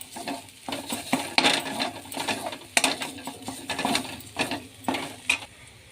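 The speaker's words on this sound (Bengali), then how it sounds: "বাটা ভাজা হচ্ছে এখানটা।" Paste of ground cauliflower and cauliflower leaves fries in oil, with a continuous soft sizzle broken by repeated scraping strokes of a stirring utensil, close and moderately loud, no voices.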